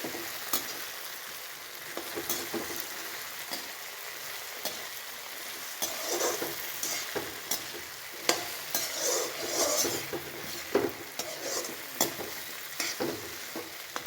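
Bhindi (okra) frying in a pan is stirred with a spatula, making repeated scraping and clacking strokes over a continuous moderate sizzle, with busier, louder stirring in the second half.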